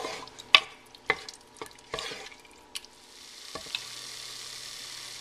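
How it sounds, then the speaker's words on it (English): Masala with red chili powder cooks in a pan with a steady sizzle, broken by a few sharp scrapes and clatters of stirring. The sound is close and clear, with no talking. "Combine all the ingredients together and let this masala cook for 10 to 12 minutes until oil starts separating from it."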